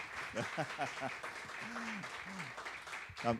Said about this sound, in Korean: 우리 다시 한번 박수로 감사의 표시와 격려를 하도록 하겠습니다